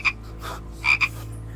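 A frog gives sharp, raspy croaks near at hand, one single, then a double call about a second later, over a low steady background hum.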